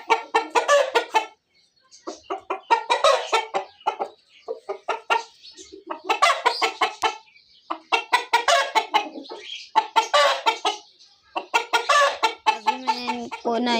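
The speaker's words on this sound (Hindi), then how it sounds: "ये लड़ते हैं दोनों मुर्गे आपस में।" Two roosters fight up close, with loud bursts of clucking and squawking in rapid flurries and brief pauses between.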